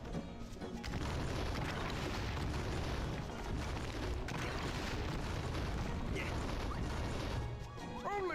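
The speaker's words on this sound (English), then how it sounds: "Only thing better than a key is a loaded cannon pointed at a locked door." A loaded cannon in a video game blasting at a locked door, a long dense crashing roar with heavy booming impacts that fills the scene almost without pause, and a brief voice near the end.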